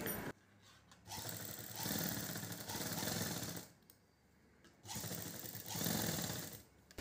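A sewing machine stitches round neck piping on fabric, running in several bursts of fast rattling stitching separated by short pauses, close and fairly quiet.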